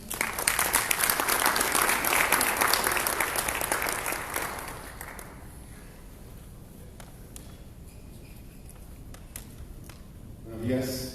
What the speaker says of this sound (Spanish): Recibamos también con un caluroso aplauso a Lester Ramírez